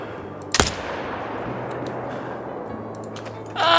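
A single sharp rifle shot from a hunting game, theHunter: Call of the Wild, cracks loud and close over a steady ambient outdoor bed, followed near the end by a brief burst of noise.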